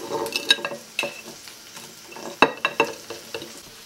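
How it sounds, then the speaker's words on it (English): Crushed garlic and chili-powder spice paste is mixed by hand in a bowl, giving soft, irregular squelches and scrapes. A few sharper clinks stand out against the quiet between them, all close and fairly faint. "And then I'll just mix it up."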